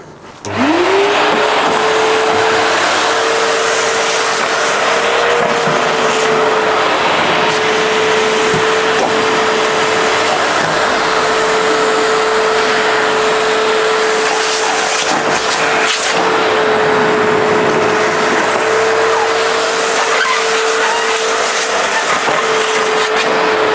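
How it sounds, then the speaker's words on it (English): A loud V-Tuf Mighty XL M-class industrial vacuum runs continuously outdoors with a steady whine and rushing air, occasional rattles as dry leaves get sucked in. "Not particularly good at vacuuming up dry leaves outside"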